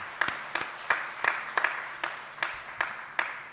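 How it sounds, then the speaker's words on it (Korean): Sparse clapping from a church congregation during a Sunday morning worship service, about ten distinct claps spaced roughly evenly, fairly faint and roomy, with no voices over it. "다시 한번 인사할 때 여러분들 큰 박수 보내주시기 바랍니다"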